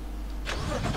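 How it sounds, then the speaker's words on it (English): RB26 engine starting up in the Automation car game, a steady low idle rumble that rises into a firmer crank and catch near the end, no talking. "Startup sound."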